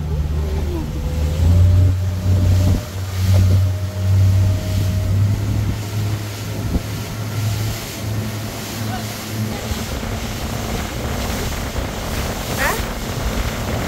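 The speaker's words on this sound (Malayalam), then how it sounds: "അപ്പോൾ ഞങ്ങൾ ബോട്ടിങ്ങിന് പോവാണ്." A motorboat speeds off Khorfakkan Beach, its engine droning loudly with a surging low hum that swells and eases, mixed with wind buffeting and splashing water, and faint voices now and then.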